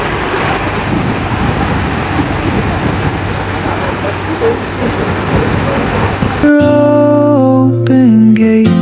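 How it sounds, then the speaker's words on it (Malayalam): Heavy rain pours steadily in the Sundarbans mangrove forest, a loud dense hiss for about six seconds before music abruptly takes over. "നല്ല സൂപ്പർ മഴയാട്ടോ. സുന്ദർബാനിലെ മഴ എല്ലാരും കണ്ണറിച്ച് കണ്ടോ."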